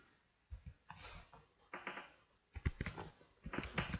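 Keys clatter on a computer keyboard as Python code is entered, in short quiet bursts of rapid typing with brief pauses between them, close and fairly soft.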